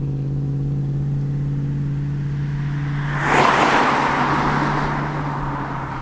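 A 2019 BMW 530e M Performance Edition plug-in hybrid with a turbo engine and electric motor boost goes to full throttle. A steady low cabin hum breaks into a loud, rising engine surge midway, then eases into a sustained, slightly quieter drone.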